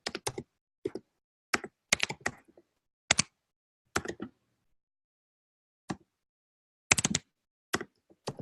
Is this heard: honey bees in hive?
no